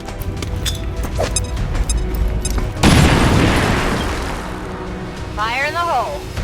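A big explosion goes off in the video game XCOM 2: War of the Chosen. A deep, loud boom bursts suddenly and rumbles away over several seconds, with voices before and after it.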